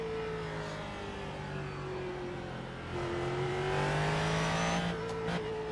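A Ford GT3 race car in iRacing at Barber Motorsports Park holds a loud, buzzing engine note that rises and falls through gear changes, close and continuous with no voices.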